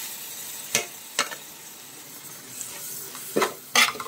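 Chopped tomato with onions sautés quietly in a pan for a toddy-shop fish head curry, a soft steady sizzle broken by a few sharp spoon scrapes and knocks, the loudest near the end.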